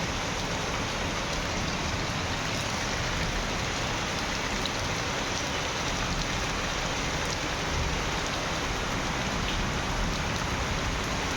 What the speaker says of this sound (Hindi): तेज तेज हो रही है बारिश।